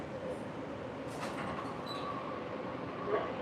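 A light rail train rolls past in Salt Lake City, a steady broad rumble with faint wheel squeal and brief higher tones, continuous and moderately loud throughout.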